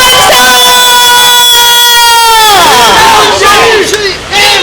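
A campaign rally crowd at Yeongcheon public market before a local election gives a loud, unified roar of cheering and shouting. It swells and holds, then breaks into scattered yells close by.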